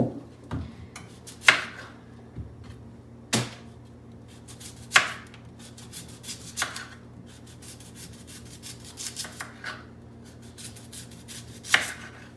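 A knife chops sweet potatoes into fries on a cutting board, sharp irregular knocks spaced a second or two apart over a quiet kitchen hum, with no voices.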